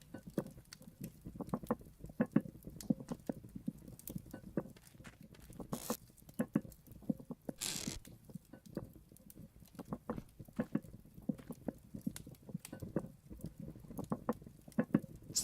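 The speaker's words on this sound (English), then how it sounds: "The pot boiling?" Pot boiling over a fire in the survival game Vintage Story, a continuous low bubbling patter of small pops with a few brief brighter bursts, steady and moderately quiet throughout.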